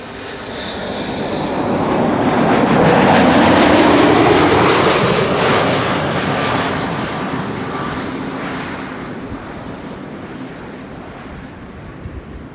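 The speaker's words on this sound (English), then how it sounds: "Up next, KLM flight 1292" A KLM airliner, flight 1292, passes at Amsterdam Schiphol Airport, its jet engine roar swelling to a loud peak and then fading slowly, with a whining tone that drifts down in pitch as it goes.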